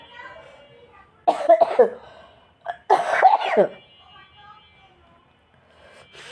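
A person with a cold and a nasal voice coughs while cooking a fish curry: two close, loud bursts of harsh coughing, with quieter room sound in between.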